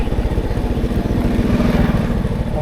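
A motorcycle engine rumbles steadily and close on a road in Laos, its low throbbing firing pulses continuous throughout with no pause or talk.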